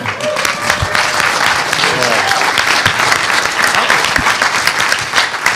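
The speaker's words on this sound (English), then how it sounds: "Good applause line." A conference audience at a hacker gathering breaks into sustained, dense applause, loud and even throughout with scattered whoops, filling the room without any talking.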